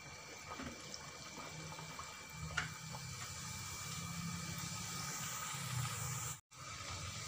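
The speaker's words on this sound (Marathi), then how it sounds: "तेल गरम झालेलं आहे, आता टाकून घेते मी।" Steady broadband hiss of kadakani, a crisp Maharashtrian fried snack, frying in hot oil, with a continuous bubbling roar and a brief drop-out near the end.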